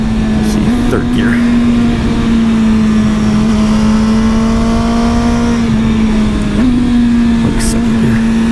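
A Yamaha R1 sport motorcycle on Diablo Rosso 2 sport-touring tires pulls in third gear along a canyon road, its engine a loud, steady drone with a slight rise in pitch, wrapped in constant wind rush.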